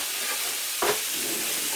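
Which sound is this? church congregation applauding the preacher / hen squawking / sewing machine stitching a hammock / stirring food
stirring food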